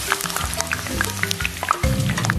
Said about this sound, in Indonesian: Lanjut panaskan minyak secukupnya, lalu masukkan kentang.